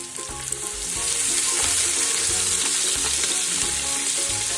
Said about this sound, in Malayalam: ഇനി ഒന്ന് ഇളക്കി കൊടുക്കാമേ